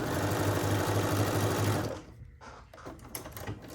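A slightly clattery sewing machine that needs oiling stitches a quilt-as-you-go piece in a fast, loud, even run that stops after about two seconds, leaving faint handling noises.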